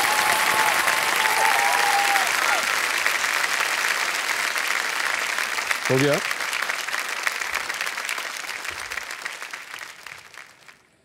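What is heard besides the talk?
studio audience applause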